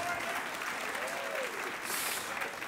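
A church congregation claps during a sermon gathering, a fairly quiet, continuous patter of hands, with a voice briefly audible over it midway.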